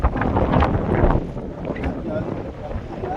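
Wind buffets a microphone out on the water during fishing, a loud, rough low roar that gusts and then eases slightly, with a voice faintly mixed in.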